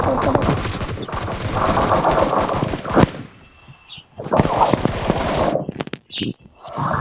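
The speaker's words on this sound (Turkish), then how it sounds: "O yeni gelen silah kullanıyor." Video game gunfire rattles in loud bursts of rapid automatic shots, pausing briefly before another burst, with a few isolated single shots near the end.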